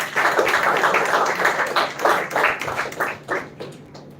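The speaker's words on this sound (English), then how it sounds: "Can we please give her a big round of applause?" Applause from an audience at a children's literature festival school round, a moderate burst of clapping that swells and fades unevenly, with no voices over it.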